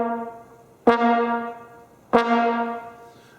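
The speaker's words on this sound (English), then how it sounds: "What you're hearing here is an articulation both on the front and on the back of" Trombone notes tongued at both the front and the back, two separate notes each starting with a sharp attack, swelling and then stopping, heard solo and close with nothing else in between.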